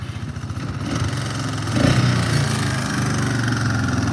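A newly acquired ATV engine runs close by with a rough, buzzing drone that rises briefly as it revs up, then settles back to a steady, loud running note.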